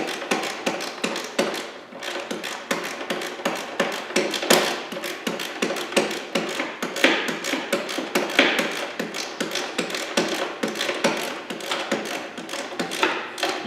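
Exhaust bolts on a 2022 Kawasaki KLR 650 being tightened with a hand tool, giving dense, rapid metallic clicks and taps that continue steadily throughout at close range.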